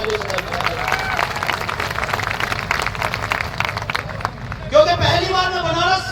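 An audience at a business rank-achievers event claps to thank the MD and CEO, a continuous spread of applause under loud music and voices, with a brief vocal burst near the end.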